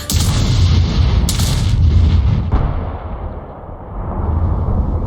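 A PZT-70 heavy tank's 180-mm gun firing in World of Tanks: loud deep booms with a rumbling tail, a second blast near the middle, sustained low roar throughout.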